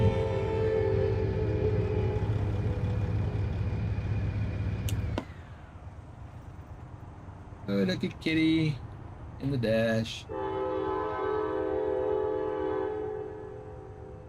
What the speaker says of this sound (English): Boy, that train is loud.